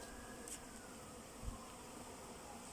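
A swarm of bees entering a hive gives a faint, steady buzzing hum that runs throughout, distant and low in level.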